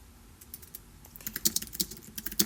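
Someone types on a computer keyboard, writing a code comment: soft scattered keystrokes that quicken into a brisk, clicky burst, heard up close with no talking.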